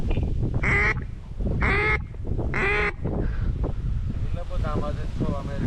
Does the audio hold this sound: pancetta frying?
no